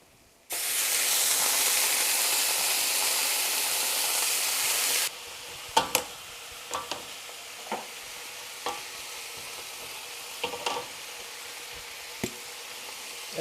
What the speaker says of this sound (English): let's add our veggies to the wok.